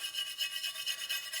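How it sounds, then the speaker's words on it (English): Steady back-and-forth scrubbing strokes rasp over a Remington 7400 rifle's metal as rust and old bluing are worked off, a close, even rhythmic rubbing repeating about every fifth of a second. "Just gonna gently scrub this stuff and get all this rust and this old bluing off"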